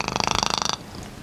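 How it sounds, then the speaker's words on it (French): A house cat purrs loudly and close, a fast rapid rhythmic rumble of about twenty pulses that stops abruptly, followed by quiet breathing. "Cette fois, c'est un chat qui ronronne"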